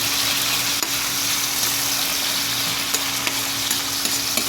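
Sautéed onion, garlic and other ingredients hiss in a hot pan with a continuous broadband sizzle, while a few faint spoon taps and scrapes come through as they are stirred. No one speaks.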